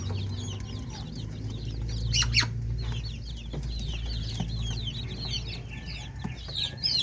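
Chicks in a brooder peep and cheep almost constantly, many overlapping calls close by over a low steady hum.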